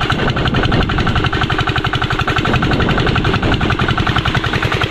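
A loud engine runs steadily and roughly, with a heavy, rapid pulsing throb that sounds strained, continuous throughout with no voices.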